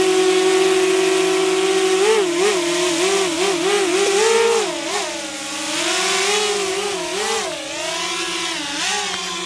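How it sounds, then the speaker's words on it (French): A Potensic Atom 4K camera drone hovers nearby, its steady whining buzz wavering up and down in pitch as the rotors adjust, loud and close with no voices. "le bruit que vous entendez, c'est le drone en stationnaire"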